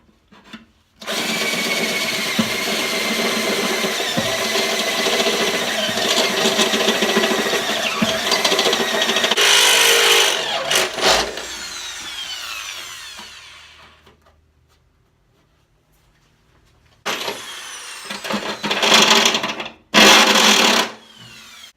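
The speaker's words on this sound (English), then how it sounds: "I'll get my favourite tool I've ever bought, which is my step drill out, and start drilling." A power drill with a step drill bit whines and grinds through metal in long continuous bursts, pausing into near silence before two shorter drilling bursts at the end.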